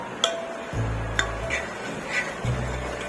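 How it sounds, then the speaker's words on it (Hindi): A spoon stirring sugar into water in a glass, with light clinks against the glass and swirling scrapes in a quiet kitchen, close and soft with no talking. "ये अच्छे से डिसॉल्व हो जाए इतना देर तक इसे मिलाएंगे।"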